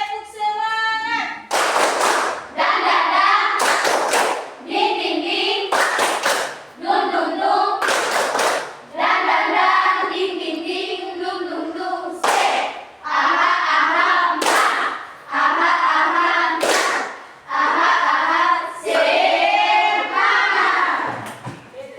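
A classroom group doing the tepuk semangat cheer, sharp unison handclaps in a steady, repeating pattern roughly every two seconds, interleaved with loud chanted voices from the group.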